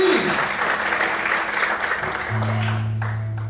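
A church congregation claps together through a steady wash of applause that holds for several seconds, with a low organ or keyboard tone entering partway through.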